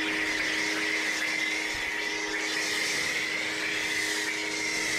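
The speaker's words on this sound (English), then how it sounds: "even with this inexpensive 2000 PSI pressure washer" An inexpensive 2000 PSI pressure washer runs steadily during a car wash, a constant loud whine and hiss with an even drone and no pauses.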